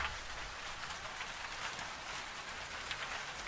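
Rain patters against the small, thick old glass of a farmhouse kitchen window, a soft, even hiss with scattered brighter drop taps, quiet and close, with no voices.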